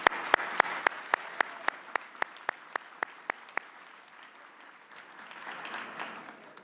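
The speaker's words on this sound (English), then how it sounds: "Please give Siemens a big round of applause." Audience applause at a mayors' conference luncheon. It opens with a run of sharp, evenly spaced claps and then settles into a steady wash of clapping that fades slightly toward the end, with no voices over it.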